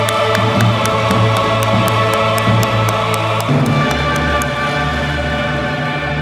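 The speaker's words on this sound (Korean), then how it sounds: "큰 박수로 감사를 올리겠습니다." Wedding blessing ceremony audience applauding, a loud continuous wash of clapping and crowd noise from a large gathering, steady for several seconds before easing slightly.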